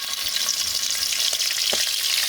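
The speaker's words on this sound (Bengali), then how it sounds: "তারপরে কড়াইয়ে পর্যাপ্ত পরিমাণ তেল দিয়ে তারপরে এগুলো ভাজা শুরু করব।" Spiced crabs fry in oil in a wok, giving a loud, close, crackling sizzle with a few stirring scrapes and pops, and no voices.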